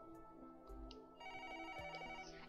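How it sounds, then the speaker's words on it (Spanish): A telephone rings inside the video game Another Code: R, a steady electronic ringing tone that sits over soft game music, fairly quiet and with no voices. "El teléfono. ¿Debería contestar?"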